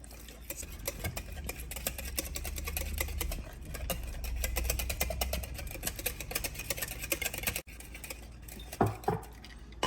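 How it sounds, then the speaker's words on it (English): A whisk stirs green chili sauce dressing in a bowl, giving a steady, close run of quick metallic clicks and patter against the bowl with no talking. "I'm going to whisk this together."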